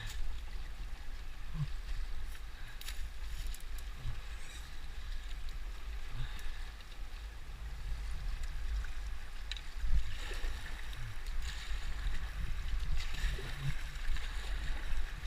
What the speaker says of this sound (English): Here we go, riding in our canoe.